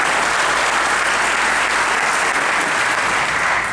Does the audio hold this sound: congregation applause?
yes